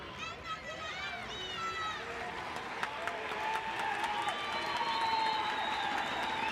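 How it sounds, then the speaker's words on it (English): Home fans applauding at a women's international football match, El Salvador against Belize, a steady distant crowd applause and cheer rising slightly, heard under a commentator talking. "Big round of applause by the home fans"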